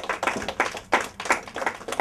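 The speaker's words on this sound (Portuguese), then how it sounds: "Palmas." Clapping after a correct answer in a Portuguese-language quiz show round: a small group claps in short, uneven bursts, fairly close, with no talk over it.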